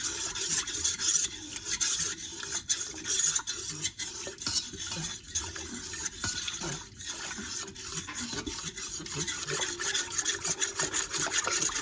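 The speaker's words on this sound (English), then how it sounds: "Now I'm just going to stir this together with my Danish dough whisk" A Danish dough whisk stirs sourdough ingredients in a bowl, giving a steady close scraping and rubbing that runs the whole time in uneven strokes, with no talking.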